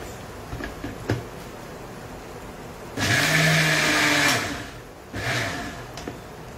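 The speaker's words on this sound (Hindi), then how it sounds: "तो मैं इसको ब्लेंड कर लूंगी।" A kitchen blender whirs loudly through curd with ginger, garlic and green chili in two bursts, a longer run and then a shorter one, with softer handling knocks before the first.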